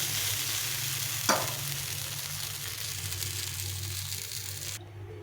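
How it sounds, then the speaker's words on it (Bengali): Chana dal fritters fry in an oiled pan with a continuous close sizzle and crackle. A brief sharp clink sounds early, and the sizzle drops away abruptly near the end. "এইভাবে বাকিটাও ভেজে নেব।"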